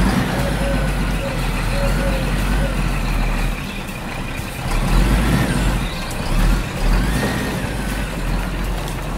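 A toy truck in a children's cartoon about Uncle Stefan's machines drives off, its engine rumbling steadily and loudly throughout with a faint beeping early on and a surge of motor noise midway.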